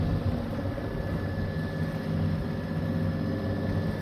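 Inboard motor of a sailboat under way with sail up on a short coastal hop from Eastbourne to Brighton, a steady low rumbling drone mixed with wind and water noise, continuous and fairly loud.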